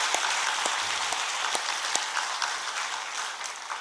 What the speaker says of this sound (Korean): 우리 다시 한번 나가는데 박수로 좀 격려 좀 부탁드립니다